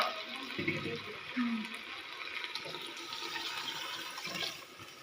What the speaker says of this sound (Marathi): त्याच्यामध्ये आपण पाणी टाकून घेणार आहोत जे आपण पाणी गरम करून